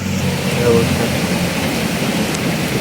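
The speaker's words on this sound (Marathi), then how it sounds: "अचानक एवढा पाऊस चालू झाला आहे" Heavy rain pours down on a park in a steady, dense roar that fills the whole scene without letting up.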